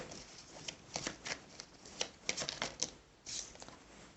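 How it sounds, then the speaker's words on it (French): Tarot cards are shuffled close by in a quiet room, making soft irregular flicks and slaps in short bursts with brief pauses between them. "Et on va battre les cartes."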